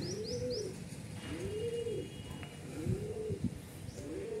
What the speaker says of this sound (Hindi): ये कबूतर मेरी 3 घंटा से ऊपर उड़ के आ रही है